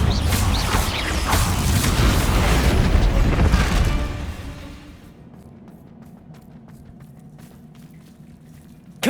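Confringo and Bombarda spells in the Hogwarts Legacy video game go off as a run of loud, crackling, booming blasts for about four seconds. Quieter rubble clatter and sparse clicks follow.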